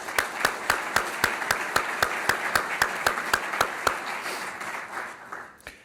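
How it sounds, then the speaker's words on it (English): Audience applause at a college business school talk, heard as a sharp, evenly spaced run of loud claps that thins and fades toward the end. "Round of applause for everything great that he and Grand Valley are doing."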